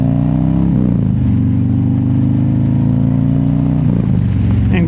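A motorcycle rides along on a sunny day, its engine droning loudly and steadily up close, with gear shifts and shifting revs breaking the constant rumble.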